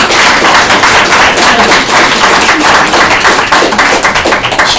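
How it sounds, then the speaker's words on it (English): A city council work session breaks into a loud, sustained round of applause, dense clapping from the room filling the whole stretch evenly without talk. "I think we should pause for a round of applause."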